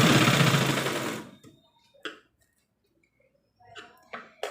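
A tailoring sewing machine stitches through cloth with a loud, steady whir for just over a second, then stops. A few faint clicks and light handling noises follow.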